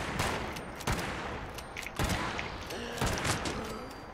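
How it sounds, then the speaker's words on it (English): Rifle gunfire in the video game Fallout 76, a few sharp reports spaced about a second apart, moderately loud amid game ambience, with a voice briefly audible. "So it's quite a powerful rifle, this."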